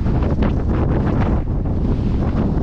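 Strong wind gusting across an open horse paddock, roaring steadily and loudly against the microphone with constant broadband buffeting and no pauses.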